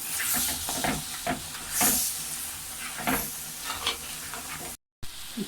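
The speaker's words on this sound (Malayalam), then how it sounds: "ഞണ്ടുകുട്ടന്മാരൊക്കെ ഇതിന് നമുക്ക് നല്ലോണം ഒന്ന് ഇളക്കിയെടുക്കാം കേട്ടോ" Crab fry being stirred in a hot pan: a steady sizzle with repeated scraping strokes of the spoon, close and clear, with a brief dropout near the end.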